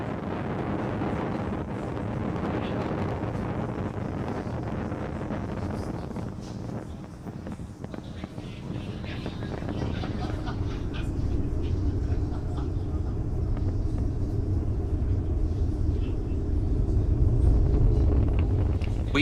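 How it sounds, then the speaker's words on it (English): Falcon 9 rocket launching from Launch Complex 39A with 53 Starlink satellites aboard, a continuous broad low rumble that holds steady and grows louder toward the end, heard at a distance under buffeting wind. "Falcon 9 has successfully lifted off from Launch Complex 39A, carrying our 53 Starlink satellites into space."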